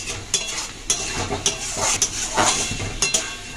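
Spice paste for raw jackfruit curry being fried and stirred in a pan, a steady sizzle broken by regular scraping clinks of a spatula against the metal, close and fairly loud.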